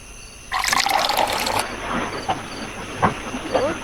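Water pouring in a Roblox burger stall game, a short gushing splash that fades into faint trickles and clinks, with speech around it.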